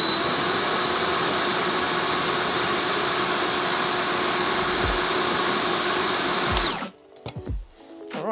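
A Stihl handheld leaf blower running at full power in boost mode, a loud, close, steady jet-like roar with a high whine that holds, then cuts off abruptly and spins down near the end.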